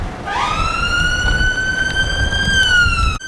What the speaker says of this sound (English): So that's a ambulance struggling to get through.